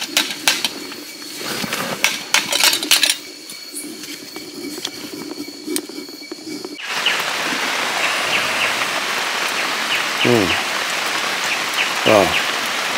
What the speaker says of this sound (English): it's been raining like this for about good half an hour now